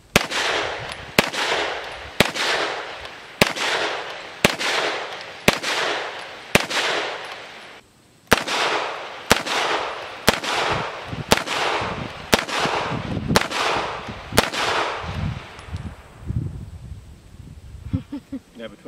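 A Grand Power Stribog SP9A3 9mm delayed roller lock pistol-caliber carbine fires about fourteen loud, sharp shots at a steady measured pace outdoors, each with a short echo tail, followed by a fading rumble.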